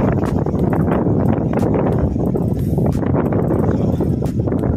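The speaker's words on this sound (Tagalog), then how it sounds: "Makaurag, kalakas ng hangin." Strong wind on the Manila Bay shore roars and buffets the microphone continuously, a loud, dense rumble with gusty surges throughout.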